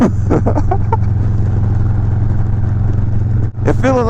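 A Harley-Davidson Road Glide with T-bars rumbles on a test ride, its low steady engine drone running beneath wind noise, with a brief dip near the end before the engine comes back in.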